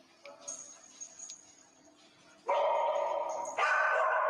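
A cadaver search dog barks loudly in a rapid run of repeated barks close by, following quieter shuffling and faint voices, the barking continuing steadily to the end.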